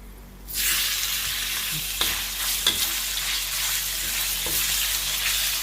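Beef stir-frying with fried garlic in a pan, a loud hiss that bursts in suddenly and holds steady, with a few clanks of the spatula against the pan.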